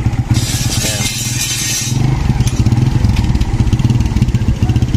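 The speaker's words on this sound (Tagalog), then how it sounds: "Sir, huwag ipatayin yung makina. Hayaan nyo lang umaandar." A motorcycle-with-sidecar engine idles steadily with a low, throbbing chug, close and loud, with a brief hissing noise early on.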